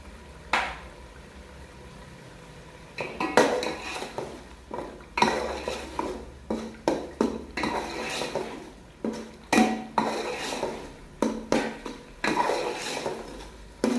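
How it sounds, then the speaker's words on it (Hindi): Cabbage fry with salt is stirred in a pan, a spoon scraping and clanking against the metal in a regular rhythm of repeated strokes, close and clear, with a faint sizzle beneath. "अच्छी तरह से मिक्स करते रहें ताकि ये नीचे से ना जल जाए"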